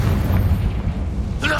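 A Confringo spell explosion in Hogwarts Legacy, a loud, deep booming blast rumbling throughout the short burst, with a voice briefly heard at the end.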